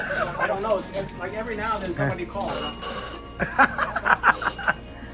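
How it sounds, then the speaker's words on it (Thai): A telephone rings in short, repeated bursts, partly buried under lively conversation and laughter close by. "รับโทรศัพท์หน่อย"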